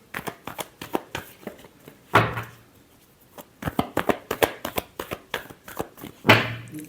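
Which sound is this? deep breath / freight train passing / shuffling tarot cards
shuffling tarot cards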